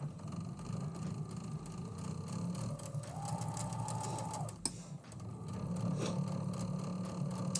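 A sewing machine stitches quilt pieces in a steady, close mechanical whir that runs almost without pause, briefly interrupted once by a click before the motor picks back up.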